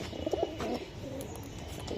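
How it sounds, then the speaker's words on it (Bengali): A large Pakistani high-flying pigeon gives a few soft, low coos close by near the start, then quieter background sound follows with no further calls. "বিশাল সাইজের কবুতর আপনার এটা"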